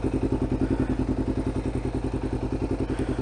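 A Kawasaki Ninja 500R with a full Muzzy exhaust idles on a cold morning, giving a steady, even, rapid thumping pulse close by. No one speaks over it.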